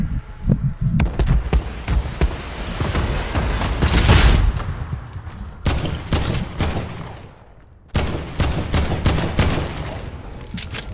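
Rapid bursts of gunfire in Fortnite crackle loudly and close, with clusters of sharp shots, a brief lull and then another volley of evenly spaced cracks.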